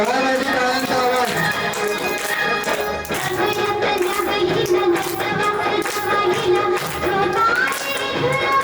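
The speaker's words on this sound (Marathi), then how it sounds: "चला टाळ्या, टाळ्यामध्ये टाळ्यांचा आवाज" An audience claps at a baby shower, with dense overlapping hand claps sustained throughout over steady background music, lively and fairly loud.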